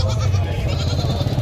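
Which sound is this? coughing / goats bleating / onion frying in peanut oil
goats bleating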